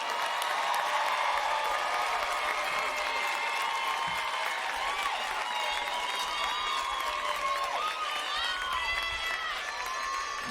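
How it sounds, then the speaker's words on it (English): Crowd applause at a high school graduation ceremony, a sustained wash of clapping with scattered cheers and whistles, steady and fairly loud throughout with some voices mixed in. "Come on, give them a round of applause."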